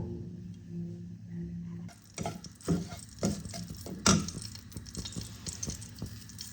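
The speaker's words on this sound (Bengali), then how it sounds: "এই যে এখন আমি চালগুলোকে ভেজে নেব।" Washed Gobindobhog rice for kheer is dropped into a pan of hot ghee with bay leaves, and a low simmering hum gives way to wet sizzling and several scraping stirs close up.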